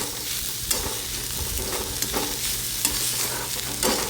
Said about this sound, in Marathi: पुन्हा हे मिक्स करून आपल्याला दोन ते तीन मिनटं परतून घ्यायचं आहे व्यवस्थित